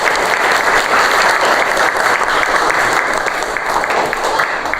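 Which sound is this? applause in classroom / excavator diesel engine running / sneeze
applause in classroom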